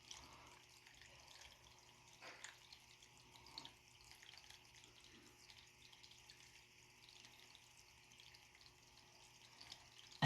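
Soft, steady water trickle from an indoor fountain, faint and continuous, with a few light drips and clinks over a low hum and no talking.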